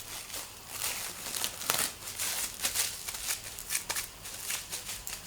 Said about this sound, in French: Alors j'ai l'habitude avec le papier sulfu. C'est ce que je mets